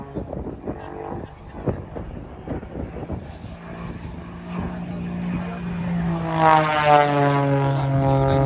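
A Jett Pitts propeller aerobatic biplane flies at the Duxford summer air show, its droning engine building from a distant rumble into a loud, rising pass with a shifting pitch over crowd ambience.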